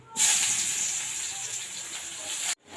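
Chopped onion hitting hot mustard oil in a pan, a loud steady sizzle that starts abruptly and holds for over two seconds before cutting off.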